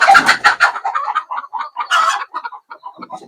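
Free-range country chickens clucking in a broody hen section of a poultry farm, a dense run of close, overlapping clucks and short calls from several birds with no talk.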